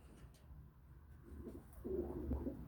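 Pigeons coo softly at close range in a Turkish pigeon loft, a low rolling call repeating a few times over a steady faint background hum, with no speech.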